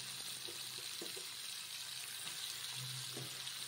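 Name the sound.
bitter gourd and potato frying in pan on low flame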